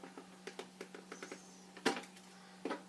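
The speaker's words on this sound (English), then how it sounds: "I'll just take these cutters and I'll cut." Cutters snipping the plastic ear piece of a three-piece Stormtrooper helmet, a series of light, close clicks and snips with one louder crunching cut, no talking.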